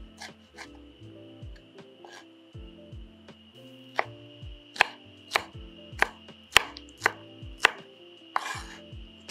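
A knife chops bell peppers into small cubes on a cutting board, giving close, crisp taps that start sparse and settle into a quicker, steady rhythm.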